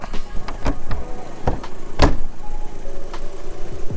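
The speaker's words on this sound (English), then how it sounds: "Bonnet doesn't shut." A Mk5 Golf GTI Edition 30 bonnet with a faulty catch is dropped and pushed down, giving several sharp metallic thumps and clunks spread over a few seconds, close by with no talking.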